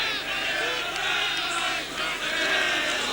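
A small football crowd of under 2,000 in the Stradivari stadium for San Marino versus Scotland murmurs and calls out in a steady wash with rising swells, distant and continuous.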